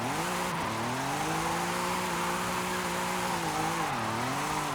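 Loud, continuous tire squeal from an Audi RS5 sliding sideways in Forza Horizon, layered over a revving engine whose pitch dips and climbs with each correction, lasting several seconds without speech.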